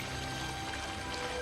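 Water pours steadily in a Star Trek: The Next Generation episode, a continuous close splashing stream with no pauses and no talk.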